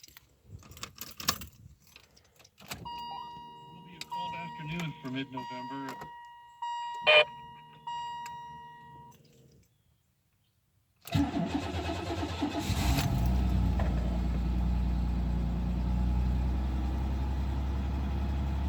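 A 1992 Buick Regal Limited with nearly 99,000 miles cranks and catches in a snowy cold start, settling into a loud steady idle close by after earlier speech and a chiming tone.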